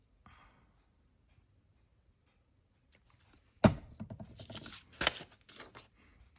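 Scissors cut glued paper scraps and book pages for a junk journal, with a couple of sharp close snips and light paper rustling after a quiet start.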